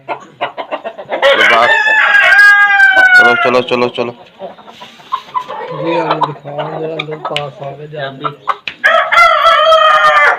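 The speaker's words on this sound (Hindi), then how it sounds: "ये देखें आप, ये इंतहाई शैतान मुर्गा।" An Aseel rooster crows loudly and up close, with short clucks between calls while someone speaks over it.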